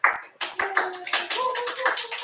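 Scattered clapping from a small group, uneven and brief, with some tonal sounds mixed in.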